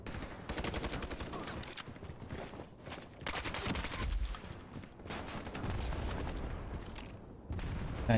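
Dense, continuous automatic gunfire from the online shooter Ironsight, with rapid overlapping bursts and a few brief lulls, loud and close throughout.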